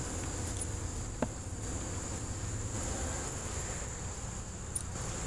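A continuous drone of honeybees around a hive hums steadily throughout, like many bees buzzing together, with a thin high whine above it and no voices.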